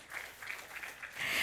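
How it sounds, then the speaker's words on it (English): Audience applause at a Brinco launch party in Bengaluru: a dense, steady crowd clapping that swells louder toward the end, with no voices over it. "Let's have a big round of applause"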